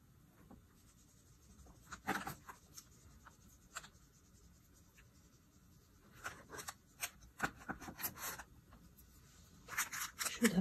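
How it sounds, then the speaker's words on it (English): Knife cutting a corner piece from a no-bake peanut butter chocolate cake, quiet soft scraping and scratching strokes in irregular bursts, louder toward the end. "I'm gonna cut a piece on the corner."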